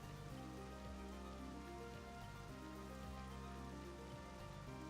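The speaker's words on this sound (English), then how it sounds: "Rain of holy water." The rain of holy water attack in the video game Castlevania: Portrait of Ruin makes a steady, dense hiss like falling rain over sustained game music, continuous throughout.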